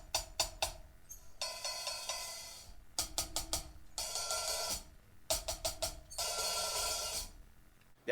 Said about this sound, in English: the hi-hat has different parts of it. It has the bell, it has the top, and then the body of it.